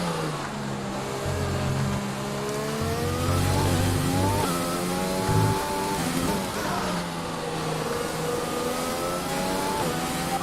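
An F1 car in the F1 2020 racing game revs hard through the gears, its high engine whine sweeping up and down repeatedly as it accelerates and shifts, loud and continuous.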